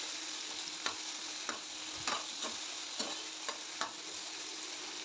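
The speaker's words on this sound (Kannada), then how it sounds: "ಸೊ ಚೆನ್ನಾಗಿ ಗೋಲ್ಡನ್ ಬ್ರೌನ್ ಬರೋವರೆಗೂ ಫ್ರೈ ಮಾಡ್ಕೊಳ್ಳಿ." Halved okra fries toward golden brown in a pan, a soft even sizzle with a spatula stirring in regular sharp scrapes about every half second to second, close and fairly quiet, no speech.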